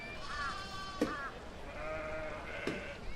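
Sheep bleat in the city-building video game Banished, two or three wavering bleats over a steady ambient bed, with light clicks between them.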